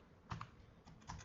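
Keys on a computer keyboard are tapped while working in AutoCAD, a few quiet separate clicks in a short burst.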